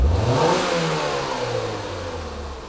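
A Ford engine in neutral is snapped above 3,500 RPM, one loud rising rev that peaks early and then falls away slowly back toward idle, close up with no voices.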